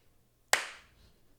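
A single sharp hand clap in a quiet room, loud and close, followed by a short decaying echo tail.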